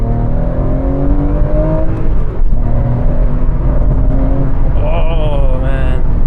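A Porsche 996 GT3 engine accelerates while driving, a loud, steady engine drone that holds throughout and rises in pitch toward the end as the revs climb.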